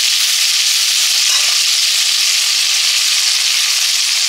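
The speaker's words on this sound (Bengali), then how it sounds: "বেগুনটা ভেজে নিচ্ছি এখন।" Slices of eggplant (brinjal) fry in a pan with a loud, constant hiss of hot oil and no voices.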